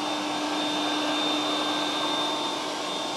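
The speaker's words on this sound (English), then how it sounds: "a robot vacuum vacuuming your house at 70 decibels versus 79" A Yeedi C12 Pro Plus robot vacuum runs with a loud, steady broadband whoosh and a thin high whine, continuous and close, cutting off abruptly at the end.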